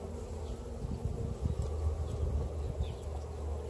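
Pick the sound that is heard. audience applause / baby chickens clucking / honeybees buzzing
honeybees buzzing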